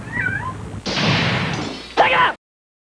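A cat meows with rising and falling tones, then a burst of broad noise follows, and a second short meow-like call ends it, close and fairly loud.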